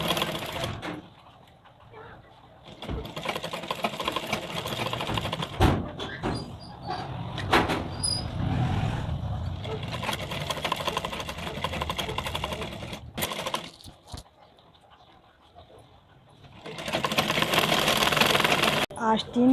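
Domestic sewing machine stitching the sleeve of a full-sleeve blouse, running in several bursts of steady whirring with brief pauses and a final loud run, while someone talks between and over the stitching.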